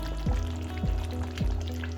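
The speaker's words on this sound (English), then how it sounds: "I'm going to let it sizzle for a further few minutes" Mutton curry with plum tomatoes sizzles steadily in a pan over the heat, a dense, constant crackling hiss with a low rumble beneath and a few faint scraping sweeps, close and moderately loud.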